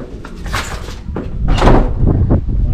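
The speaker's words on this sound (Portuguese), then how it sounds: "Eita, essa porta bem enferrujadinha, né?" A rusty old door in a run-down house is pushed open, giving a few harsh scraping, grinding bursts. The loudest stretch comes midway, over a dull room background.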